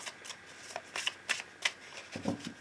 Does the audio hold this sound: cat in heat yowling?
no